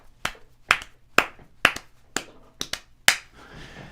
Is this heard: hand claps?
yes